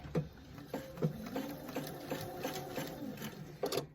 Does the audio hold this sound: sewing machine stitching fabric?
yes